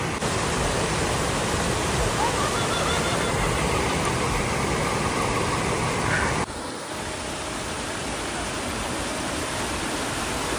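A mountain river on the Annapurna Base Camp trek rushes loudly in a steady, broadband roar near a footbridge crossing, dropping slightly in level partway through.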